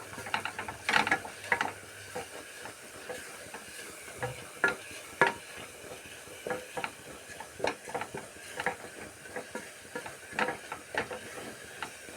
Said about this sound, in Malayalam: ഇത് നന്നായി ഇളക്കി കൊടുക്കാം